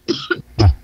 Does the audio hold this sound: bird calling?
no